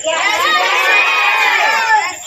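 A large crowd of children shouts loudly in unison at a Vanchit Bahujan Aghadi candidate's election campaign gathering, a dense, continuous chorus of voices that holds strong for the whole stretch.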